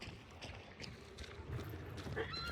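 A horse in the video game Hunt: Showdown gives off faint hoof clops and a brief whinny amid a murky, low ambient game backdrop, with no voices.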